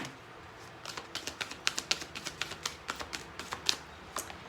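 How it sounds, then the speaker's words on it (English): A deck of angel cards being shuffled by hand, a run of quick crisp riffling clicks and flutters in close succession, faint and close with no voices. "One more shuffle."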